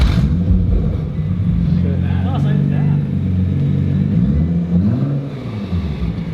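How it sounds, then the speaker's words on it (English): Nissan R35 GTR engine with only downpipes fitted, a deep, loud rumbling idle that swells through revs and settles, running steadily for several seconds with a brief pitch rise near the end. "what does the GTR sound like with, you know, just downpipes?"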